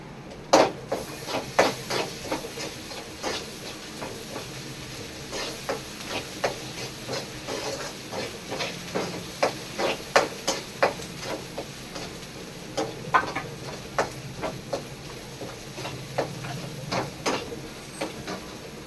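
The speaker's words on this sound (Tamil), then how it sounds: "இப்போ நம்ம கொஞ்சம் இஞ்சி பூண்டு பேஸ்ட் போட்டுக்கலாம்." Ginger garlic paste frying with golden-browned onions in a pan for pav bhaji gives a steady low sizzle and hiss, broken by repeated clicks and scrapes of stirring.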